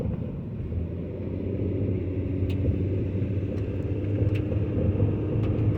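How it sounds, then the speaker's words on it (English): A 2008 Ford Fusion with a 3.0L V6 cruises along a rural road, its steady engine drone and tire rumble continuous and close, gradually swelling slightly louder with no talking. "Good running little car."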